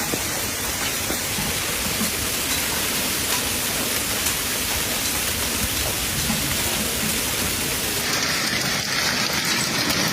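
Heavy rain and hail pound down in a dense, unbroken roar during a hailstorm over the Valtellina area of Italy, loud and steady throughout with no voices.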